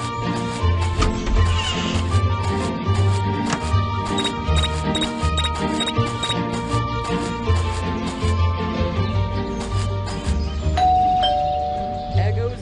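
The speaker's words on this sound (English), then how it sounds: "There goes that stupid bell again." A doorbell in the Scary Teacher 3D video game chimes repeatedly in bright tonal dings over a looping game music bed, loud and close, with a sustained tone near the end.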